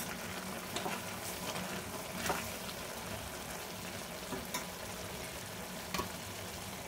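Tomato chutney frying in a pan, with a steady sizzle and scraping, clattering stirring strokes from a spoon, close and continuous with brief louder clanks.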